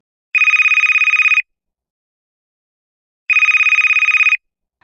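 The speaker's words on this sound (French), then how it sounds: "le Père Noël attrapa son téléphone magique et appela ses amis" A magic telephone rings in two loud, buzzy bursts about a second long each, separated by silence, close and clear with no talk.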